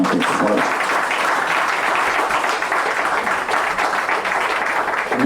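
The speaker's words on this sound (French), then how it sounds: "J'ai demandé, même à certains de vos membres, de vous applaudir." Sustained audience applause fills a hall at a ceremony for signing a decree on a new coverage rate, a dense, even wash of clapping from many hands that holds steady throughout.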